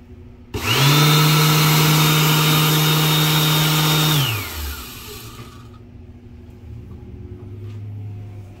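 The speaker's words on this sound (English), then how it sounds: "There's also this hand dryer here." A restroom hand dryer starts abruptly with a loud, steady whine and blowing roar, runs for several seconds, then winds down with a falling pitch, leaving a faint fan hum.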